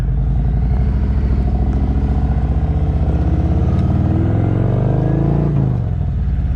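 A 2021 Harley-Davidson Road King with a Tab Performance exhaust idles and revs up close, a loud, deep, lumpy V-twin rumble that climbs in pitch with a throttle blip and then settles back down.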